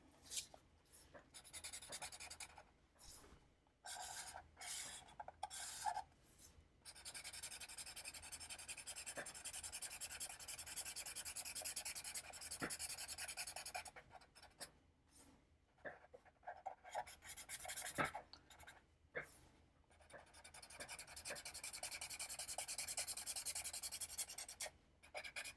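A black pen scratches and rasps across paper while coloring in a drawing, in close, quiet bursts of rapid strokes separated by short pauses, with no talking.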